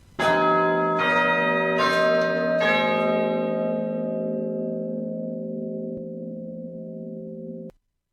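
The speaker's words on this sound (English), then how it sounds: "He spoke before the hour bell sounded, which it now did, with a deep, dull, hollow, melancholy 1." A single deep, hollow church bell tolls the hour, struck several times in quick succession near the start, then its dull resonant hum rings on alone and slowly fades before cutting off.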